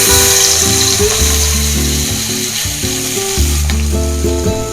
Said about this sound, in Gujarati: હવે આપણે ડુંગળી પહેલા નાખી દઈશું